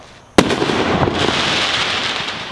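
Fireworks bursting on the Fourth of July: a sudden loud bang followed by a long crackling, hissing spray of smaller pops that lingers and slowly fades, with no talking.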